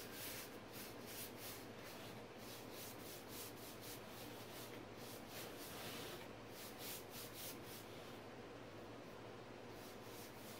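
A paintbrush drags paint across a thrifted piece of furniture in fall colours, giving soft, rhythmic scraping strokes, close and steady, repeating quickly with no one speaking.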